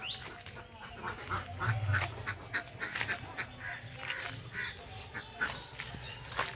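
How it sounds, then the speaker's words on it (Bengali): A flock of ducks quack over and over at a village home near a net enclosure, with a busy overlapping chorus at moderate distance and no voices. "দুলালদার হাঁস, সব হাঁস দুলালদাদের।"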